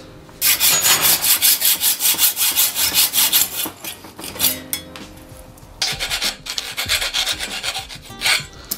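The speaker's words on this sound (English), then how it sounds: "mark where it needs to be cut." A hacksaw cuts a downhill bike's fork steerer tube to length in a workshop, with steady rhythmic strokes back and forth, a short pause mid-cut, then a second run of strokes, loud and close.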